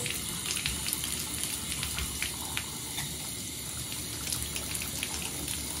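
Water runs steadily from an opened bathtub faucet that has a leak, a continuous close splashing stream with small trickling and dribbling sounds on top.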